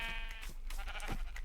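Sheep bleating in Minecraft hardcore mode, a few short wavering bleats repeating close and clear over steady game background.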